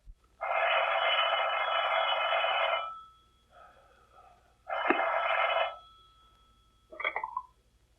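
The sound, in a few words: telephone ringing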